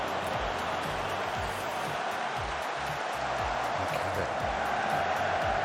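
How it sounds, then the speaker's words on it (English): A steady wash of stadium crowd noise and cheering in the Football Manager 23 football game plays continuously at moderate level, with a voice talking faintly underneath. "Crowd sounds on replays a little bit too high"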